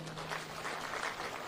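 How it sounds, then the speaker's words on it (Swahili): Applause for labour leaders standing at a Labour Day gathering in Kenya, a steady broad clatter of clapping from a crowd lasting the whole moment, moderately faint, with no talk over it. "Tuwapigie makofi hawa wadosi"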